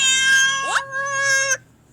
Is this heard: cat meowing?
yes